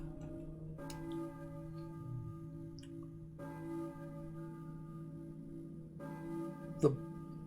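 A church bell in Silent Hill tolls three times at slow, even intervals, each strike ringing out with a long humming decay; moderately distant, no talking.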